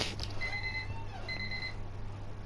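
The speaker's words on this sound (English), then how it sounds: "my timer's going off" A timer alarm beeps in two short repeated bursts, fairly faint over a steady low background hum, with no one speaking.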